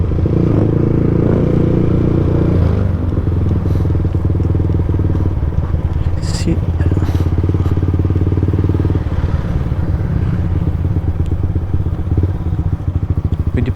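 A motorcycle engine drones steadily up close throughout, with clattering and thumps as it rolls over rough ground near San Pablo, Philippines.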